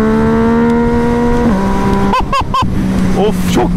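A Yamaha MT-09 motorcycle engine runs close and loud with a steady droning hum. Its pitch dips briefly midway through, then rises in a few sharp revving surges.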